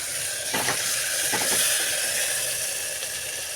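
Onion and tomato fry in oil over a high flame with a continuous hiss, and a few brief scraping stirs rise above it near the start.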